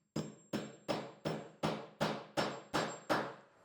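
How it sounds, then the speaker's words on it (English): Nine sharp hammer blows drive a T-nut into a plywood drilled hole at an even, quick pace, each ringing briefly before the next strike. "We're just going to hammer that in place."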